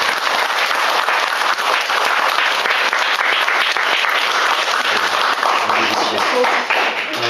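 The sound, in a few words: church congregation applauding the Sunday school teachers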